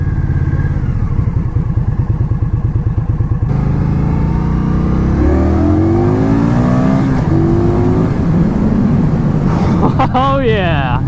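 A 2016 Indian Scout cruiser with a 69 cubic inch, roughly 1,130 cc engine pulses loudly while riding, then rises in pitch through the gears with rapid upward sweeps, close and dominant, with a voice breaking in near the end.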